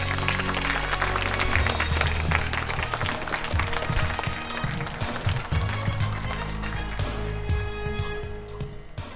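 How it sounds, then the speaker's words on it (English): A studio audience at a school quiz show claps loudly for a prize-winning team from Goa, dense and sustained applause close up that eases off slightly toward the end. "Better applause."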